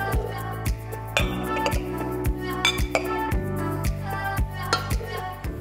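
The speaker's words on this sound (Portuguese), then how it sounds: "depois do grão estar cozido, vamos adicionar ao nosso processador o grão de bico cozido" Cooked chickpeas go into a food processor bowl with a series of sharp clinks and taps, some spaced out and some in quick pairs, over a soft, steady musical background.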